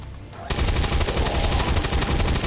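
Automatic gunfire in the video game XCOM 2, a loud rapid burst of evenly spaced shots that starts abruptly after a quiet half-second and continues steadily to the end.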